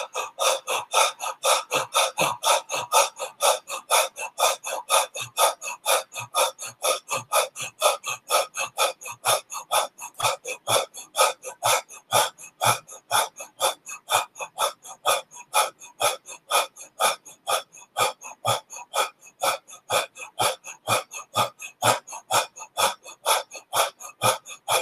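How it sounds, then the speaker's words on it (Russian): A group breathing exercise during a seminar, with quick, forceful breaths repeating at a steady, fast rhythm for the whole stretch, close and fairly loud, with no talking. "И дышим вместе со мной."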